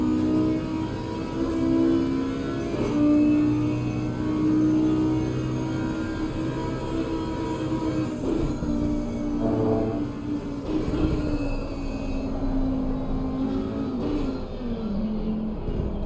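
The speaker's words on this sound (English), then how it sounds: "So let's have a listen to the Audi engine for a second." Audi GT race car engine from Assetto Corsa Competizione at the Nurburgring, a steady droning roar with shifting harmonics held at high volume throughout, changing pitch as the car runs on track.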